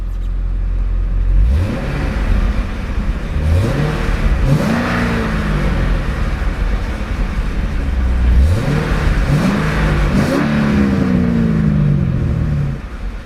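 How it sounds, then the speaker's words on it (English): A 7-liter V8 in a 2011 Chevrolet Corvette Z06 sports car with bi-mode exhaust revs hard several times, each loud, close blip climbing and falling back over a steady idle rumble, with no talk. "let's see about a good taste of that monster 7-liter V8 and see what kind of soundtrack she produces"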